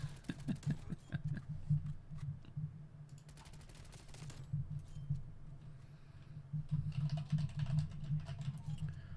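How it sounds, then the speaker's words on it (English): Loud computer keyboard typing during a late-night stream, rapid clicky keystrokes in bursts that come through clearly over a steady low hum from the room. "Apparently my keyboard typing is very loud."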